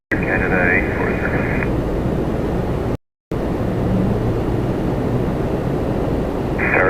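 Airliner departing Toronto Pearson airport, a loud steady engine roar broken by a brief gap, with tower radio voices breaking in over it.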